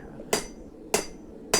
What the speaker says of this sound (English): I hand hammer the basic shapes and everything out